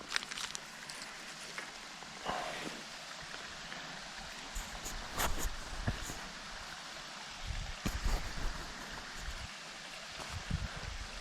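Water rushes steadily from a small waterfall on a winter creek, a close, continuous broadband hiss with a few louder splashes and knocks scattered through it.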